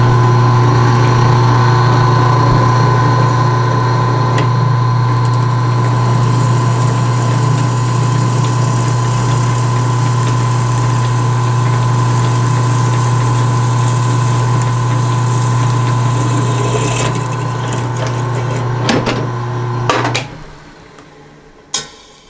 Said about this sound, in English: Those carbide bits go through this like butter.